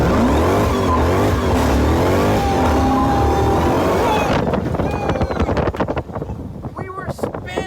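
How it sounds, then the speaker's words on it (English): A rebuilt 2018 Jeep Trackhawk's engine roars loudly as it revs and launches, its supercharger whining in rising sweeps, then the noise changes abruptly partway through as wind buffets the microphone and voices are heard. "you can hear the engine, you can hear the whine"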